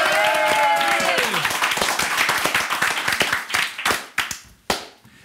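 A studio audience claps in a dense, loud round of applause that gradually thins into scattered individual claps, with a short burst of sung or spoken voice at the start.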